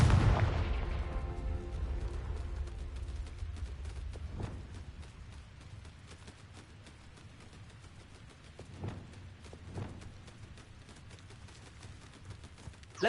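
Fire spell blasts in the Hogwarts Legacy video game: a loud booming burst at the start fading into rumble, followed by a few fainter thuds and crackles spaced several seconds apart, with no talking.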